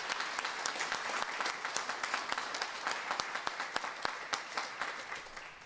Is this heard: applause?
yes